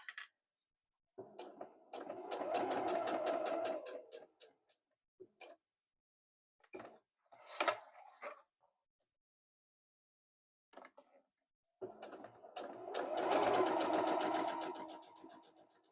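A sewing machine stitches a seam over a bulky part of the fabric in two longer bursts of rapid ticking separated by short stops and brief stitches, heard close and alone.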